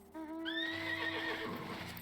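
A horse mount in Final Fantasy XIV: Endwalker gives a loud, close neigh lasting about two seconds. The whinny rises and wavers over faint background game sounds.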